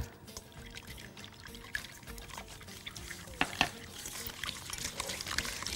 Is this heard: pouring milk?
yes